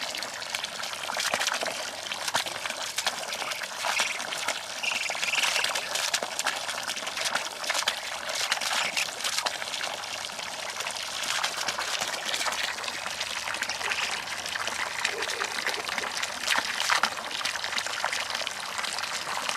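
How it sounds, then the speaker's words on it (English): Water trickles steadily downhill from a spot far up the slope on a homestead, making a continuous bright, splashing flow that never pauses, with no voices. "It's still trickling out from all the way up there."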